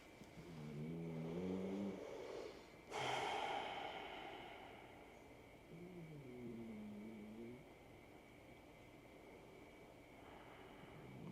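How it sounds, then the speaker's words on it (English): Long, deep breaths during a Kundalini yoga practice, a slow inhale and exhale heard near the mic, then a second softer drawn breath, over quiet background hum with a brief click between them. "Long, deep breathing."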